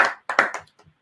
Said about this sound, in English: Let's clap for Dr. Ojo.